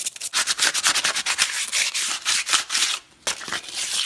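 Hand sanding of a PVC pipe with 220-grit sandpaper, quick uneven scratchy strokes close to the listener, with one brief pause partway through and no talking.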